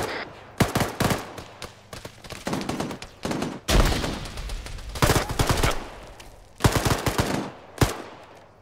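Bursts of gunfire during a training exercise outdoors, loud and close, with rapid volleys and single shots repeating in irregular clusters across the stretch, no talk over them.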